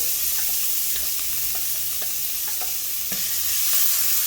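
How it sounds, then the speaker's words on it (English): Chopped onion hits hot oil with cumin seeds and sizzles steadily, with scattered scrapes and taps of a spoon stirring through the pan; no voices. "Okay, the cumin seeds are splattered, so now I'm going to add in the onion."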